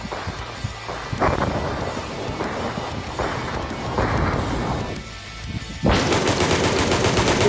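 An enemy fires at the player in Melon Playground, a video game. Bursts of loud rapid gunfire come in several rounds, with a heavier sustained volley at the end, and no voice over it.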